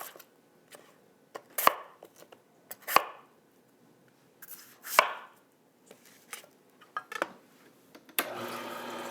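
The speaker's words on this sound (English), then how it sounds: "I'm going to cut them into chunks so that they fit through the chute of the juicer" A knife cuts green apples into chunks for juicing, giving a series of sharp, close chopping thuds on a board at irregular intervals, followed by a brief burst of rustling at the end.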